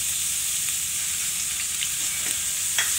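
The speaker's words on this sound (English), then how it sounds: "Now in our kadhai we have added 1 tablespoon of oil. You can take mustard oil, and then we'll add chopped onions to it." Chopped onions sizzle in a tablespoon of hot mustard oil in a kadhai, a steady bright hiss with a few small crackles and pops, close and continuous with no voices.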